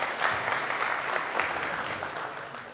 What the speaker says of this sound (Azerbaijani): Alqışlarla yola salırıq, Toğrulum.